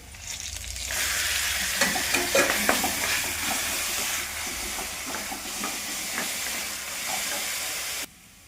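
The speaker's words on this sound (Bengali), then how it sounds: "এখন আমি আদা রসুনের পেস্টটা দিয়ে দিব" Ginger garlic paste frying in a wok with already browned onions for ghugni sizzles and hisses steadily up close, broken by scraping stirs, then cuts off abruptly near the end, with no talk.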